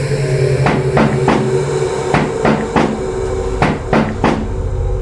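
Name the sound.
knocking sound effect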